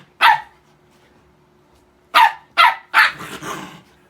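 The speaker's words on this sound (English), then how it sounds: "Come on, Winnie, do that growling thing." A pet dog gives a sharp bark, goes quiet for nearly two seconds, then lets out a quick run of three or four loud barks with a rough, growly edge, close and with no talk.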